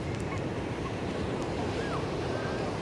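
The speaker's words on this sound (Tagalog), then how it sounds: "ang lamig ng hangin, ang hanging dagat" Steady sea wind buffets the microphone on a beach alongside a broad, constant rush of surf.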